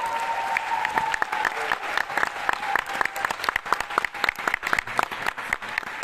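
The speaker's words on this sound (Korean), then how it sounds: "우리 고생하신 우리 곤미애 지회장님께 큰 박수 한번" Audience applause at the closing of a dance festival in Seongsan, a dense crowd clapping steadily and loudly for about six seconds with no break.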